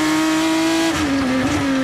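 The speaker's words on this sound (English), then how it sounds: "Dino Zamparelli, and inside Zamparelli goes Fontana, just drives right by him" GP3 race car on a track in Barcelona, Spain, its engine holding a steady high whine before the pitch drops and wavers as cars pass; loud and close, with no talking.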